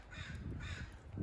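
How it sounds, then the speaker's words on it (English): Ravens and eagles call while flying overhead outdoors, giving a run of loud, raspy caws that overlap and continue through the whole moment. "Gang of eagles and ravens and flying around us here."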